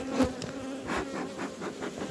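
Honeybees buzz steadily at an opened hive during smoking and frame work, a dense continuous drone of many insects close to the microphone with no talking.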